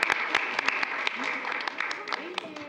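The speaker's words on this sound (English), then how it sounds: "We are not supposed to clap unless it's for kids, so we get to clap." Scattered applause at a school committee meeting, with a handful of distinct sharp claps from a small group over a few seconds, close and uneven, with some voices underneath.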